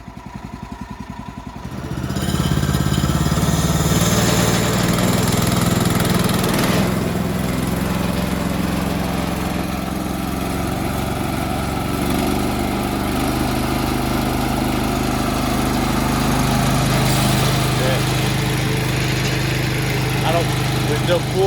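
A homestead bandsaw mill's small engine starts after a brief sputter and settles into a steady, loud running drone that holds throughout, with talk over it.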